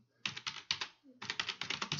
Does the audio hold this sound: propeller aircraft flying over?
no